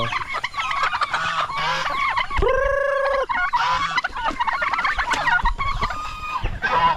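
Turkeys gobble loudly in a rapid warbling burst, surrounded by chickens clucking and squawking nearby on a farm, with no talking.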